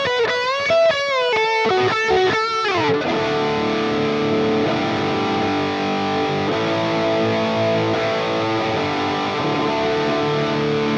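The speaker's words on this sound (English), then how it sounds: "That end of song lead tone could sound like this." A lead tone from a distorted electric guitar through a Fractal FM3/FM9/Axe-FX III preset, in drop D: fast sustained bends open the passage, then a loud, thick, saturated wall of held notes rings on.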